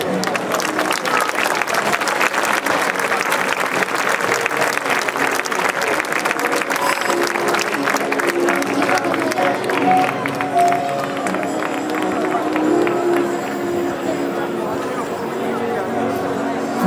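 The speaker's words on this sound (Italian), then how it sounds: "con il vostro applauso io accoglierei su questo palco tutti i protagonisti di questa" An audience at a festival in Fonni, Sardinia applauds performers coming onto the stage, long dense clapping from a large crowd with cheering and a buzz of chatter, later joined by music and voices.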